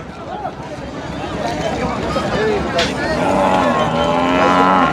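Buffaloes, including Murrah buffaloes, moo repeatedly, one long low call near the end, over a crowded livestock market in Hyderabad with people talking in the background.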